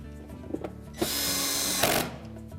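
A power tool drives screws into the outer door panel of a Whirlpool washer, with a faint click and brief whir, then a loud sustained whine for about a second, a short burst, and quiet handling noise.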